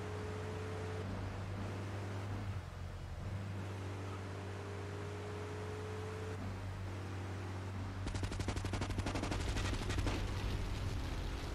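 Gunfire during a drive-by in Grand Theft Auto 3 Definitive Edition. A steady car-engine drone comes first, then a dense, loud burst of rapid machine-gun fire crackles through the last few seconds.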